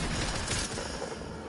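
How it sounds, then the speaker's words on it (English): Rapid bursts of gunfire from the Fortnite video game, loud and dense, rattling continuously through the short moment with no pause. "I just hear a bunch of gunshots."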